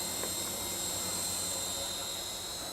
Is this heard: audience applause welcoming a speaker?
no